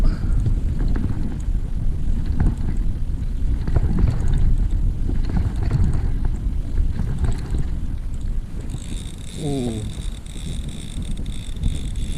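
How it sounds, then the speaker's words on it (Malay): Steady wind buffets the microphone on an inflatable boat out at sea while trolling for Spanish mackerel off Malaysia, a continuous rushing roar with low rumble throughout and a brief faint tonal squeak near the end. "Angin dah start datang."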